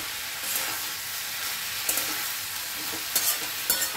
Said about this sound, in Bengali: এবারে টমেটো দিয়ে একটু ভালো করে কষবো